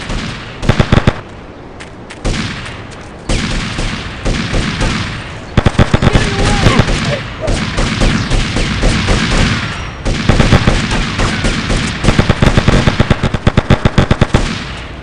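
Loud gunfire in Grand Theft Auto Liberty City Stories, repeated bursts and volleys of shots crackling through a park scene, dense stretches separated by brief lulls, close and harsh.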